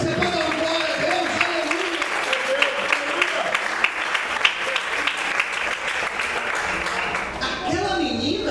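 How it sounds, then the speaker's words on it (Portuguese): A church congregation applauds during a sermon, producing a loud, sustained wall of clapping. A voice speaks over the clapping throughout, and the applause thins near the end. "Você pode aplaudir ao Senhor."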